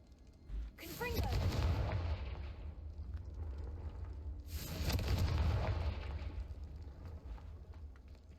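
A Confringo fire spell blast goes off in the Hogwarts Legacy video game, a loud broad burst with a sharp crackling onset that rumbles on, followed by a second heavy blast a few seconds later.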